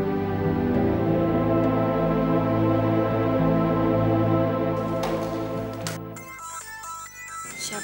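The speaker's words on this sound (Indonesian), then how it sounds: "Siapa sih yang telepon?" A phone's melodic ringtone plays for several seconds, steady and fairly close, its tune shifting into brighter chiming notes near the end.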